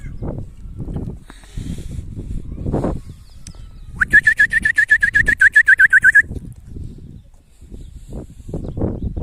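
A flock of pigeons flies nearby, with scattered rustling flutters and then a rapid, regular run of bright whistling pulses lasting about two seconds.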